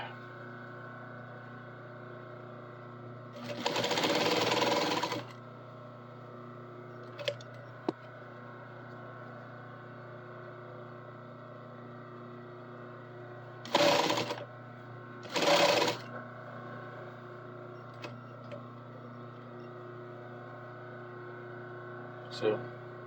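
A sewing machine stitching a long seam in one-direction stretch fabric, with the bobbin nearly empty: short bursts of rapid mechanical whirring separated by quiet pauses and a few small clicks, fairly close.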